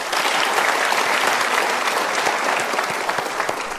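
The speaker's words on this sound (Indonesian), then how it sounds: "Kita berikan tepuk tangan untuk Mas Hilbram." Steady, dense applause from a studio audience at a motivational talk show rolls on evenly for several seconds, loud and close, with no voices above it.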